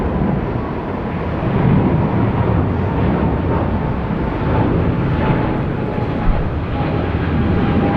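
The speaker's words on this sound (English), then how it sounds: "United Airlines operating the 777-300 ERs between here and San Francisco." A United Airlines Boeing 777-300ER at Sydney Airport sends a steady, loud broadband jet roar that holds without a break, like a widebody passing or powering up nearby, with no talk.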